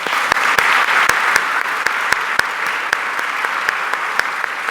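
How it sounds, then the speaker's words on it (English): Audience at a Canadian Club luncheon gives a final round of applause for a guest speaker, a steady patter of many hands with a few sharp nearby claps standing out, loud and continuous. "let's have a final round of applause for Anthony."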